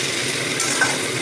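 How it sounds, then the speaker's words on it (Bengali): Vegetables fry in a pan for veg khichdi, giving a continuous loud, crackling sizzle with a faint scrape of stirring. "এর মধ্যে আমি এখন সবজিটা দিয়ে দিই। সবজিটা ভাজা ভাজা হয়ে যাবে।"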